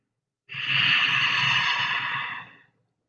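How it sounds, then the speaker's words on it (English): One long, breathy exhale hissing through a constricted throat, soft and close like distant surf, lasting about two seconds before fading out. "you want to breathe out with your mouth closed, but you're making an ocean sound"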